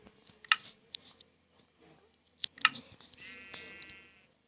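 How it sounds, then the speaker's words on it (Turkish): A pair of short sheep bleats ring out from Minecraft Pocket Edition, with clicks and soft rustling between them, then a brief buzzy tone near the end. "Koyun var."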